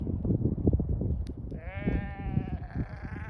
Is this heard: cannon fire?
no